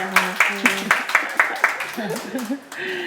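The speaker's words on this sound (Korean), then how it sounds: "박수 네. 한번 쳐드릴게요." Scattered hand claps from a small lecture audience, about eight distinct claps in an uneven rhythm, near and moderately loud, with voices talking over them.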